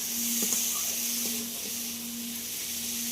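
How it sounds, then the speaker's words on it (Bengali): Red lentils sautéing with spices in a hot pan give off a steady, even sizzle and hiss, close and continuous, with a few faint clinks of stirring. "মুসুর ডালটা দিয়ে 1 মিনিট মতো কষিয়ে নেব মশলার সঙ্গে।"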